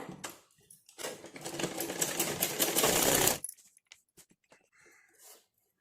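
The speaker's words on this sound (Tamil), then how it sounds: "இப்போ நம்ம ஸ்டிச் பண்ண ஸ்டார்ட் பண்ணிடலாம் ஒரு கால் இன்ச்சில் ஸ்டிச் போட்டு எடுத்துருங்க" A sewing machine stitches a blouse's back lining in one steady, rapid run of about two and a half seconds, close and clear, followed by scattered light clicks and fabric handling.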